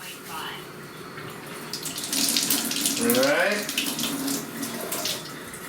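Water running from a Kangen water machine into a cooking pot, a steady splashing stream that grows fuller as the pot fills, with someone speaking briefly over it.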